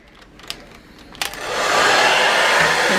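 A powerful hair dryer in a cruise ship spa balcony cabin switches on after a couple of faint clicks, then runs as a steady, loud, breathy whoosh close by.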